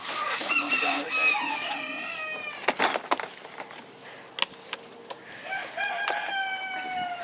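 A rooster crows in several long, strained calls near the start and again at the end, fairly close, with clucking and scattered knocks and rustling between them and no talk.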